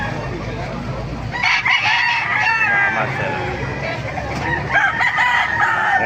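Roosters crow repeatedly at a gamefowl tyangge market in Baliuag, several calls rising close by amid clucking and market bustle, with a voice briefly speaking over them.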